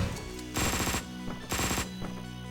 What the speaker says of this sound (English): this guy has a Uzi